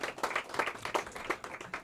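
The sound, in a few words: audience applause for a singer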